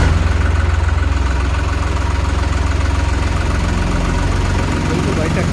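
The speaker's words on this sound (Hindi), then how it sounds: "बिल्कुल भाई ट्रैक्टर की आवाज भी बिल्कुल अलग है।" A New Holland 3630 Super Plus tractor with an export-model silencer runs at a steady, close idle, a continuous low rumble with even throbbing and no pauses.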